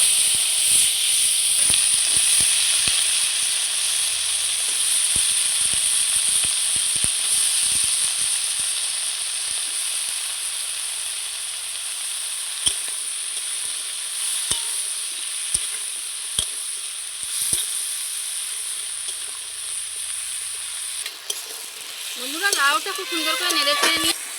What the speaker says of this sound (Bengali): এবার আমি কেটে ধুয়ে রাখা লাউগুলো ছেড়ে দিচ্ছি